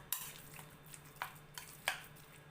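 Dumpling filling for pork wonton soup, seasoned with sesame oil, is stirred and mixed in a bowl, giving a few soft scraping clinks of utensil against dish, quiet and close with no talking.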